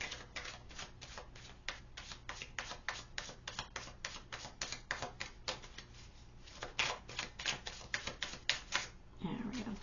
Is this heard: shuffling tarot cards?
yes